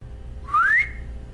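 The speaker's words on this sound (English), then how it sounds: "Rhea is going to turn away from the building and let out a very sharp whistle," A single sharp, rising whistle meant to call a pet raven, short and clear over a low background hum.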